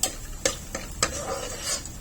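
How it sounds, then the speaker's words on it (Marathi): Sharp metallic clicks of a spoon stirring mutton masala, coriander, cumin and red chilli in hot oil in a pan, four or five irregular taps over a faint sizzle of frying. "मसाले तेलामध्ये चांगले परतून घेऊया"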